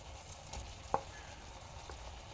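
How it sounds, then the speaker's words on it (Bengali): Chutney stirred in a pan, a faint low simmering hiss with a few soft utensil scrapes and one sharper clink near the middle. "ঢাকনাটা খুলে একটু নাড়াচাড়া করে দেব"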